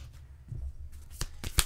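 A tarot card is drawn from a deck with a quiet shuffle and two sharp, brief papery snaps near the end, close and faint against soft background rumble.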